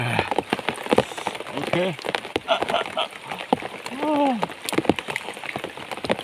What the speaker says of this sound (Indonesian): ini masih hujan ini